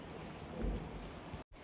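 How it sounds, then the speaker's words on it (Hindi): Steady rain falls outdoors during bad weather in a hill area, a dense, continuous patter with a brief louder swell midway and a momentary dropout near the end; no one speaks. "यहाँ तो जो है बारिश हो रही है"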